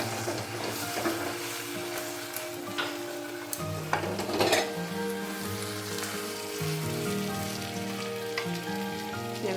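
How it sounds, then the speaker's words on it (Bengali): Prawns and spices sautéing in a pan for a coconut prawn curry: a steady, close sizzle and crackle of hot oil with occasional stirring scrapes, continuous and even, with a low hum underneath and no talking. "এভাবে একটু কষানো হোক"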